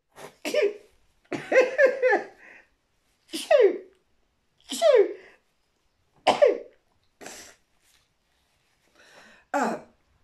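Several short explosive sneeze-like bursts and throat noises come from a person during an at-home lateral flow nasal swab test, spaced irregularly with silence between them.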